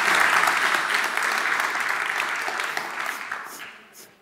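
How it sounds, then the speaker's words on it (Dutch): Studio audience applause at a Dutch tech talk show, a dense burst of clapping that starts strong and gradually thins and fades over a few seconds. "Dames en heren, hartelijk applaus voor Rutger Muller."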